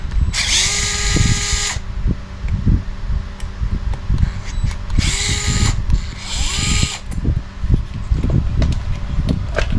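A power drill loosens engine mount bolts for a D819rs setup in loud, close bursts of high whirring that start and stop repeatedly, with clanks and mechanical noise between runs.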